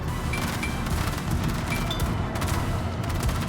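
Dense, continuous bursts of rapid anti-aircraft gunfire and booms crackle over a roaring background in a warship video game battle, with no talk.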